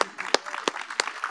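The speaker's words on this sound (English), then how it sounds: "I'm going to clap for y'all" Sparse applause from a nursing pinning ceremony audience at Morgan State University, a handful of sharp, fairly distinct claps spaced at a moderate pace over low hall ambience.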